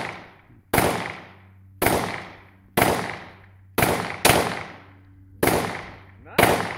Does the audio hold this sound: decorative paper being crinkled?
no